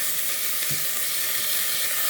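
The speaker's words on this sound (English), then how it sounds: "I'm going to chop this up, and want to keep chopping it up and brown it on all sides" Chopped ground beef sizzles steadily in a hot pan as it browns, a dense, even crackling hiss close up, with a faint scrape of stirring and no talk.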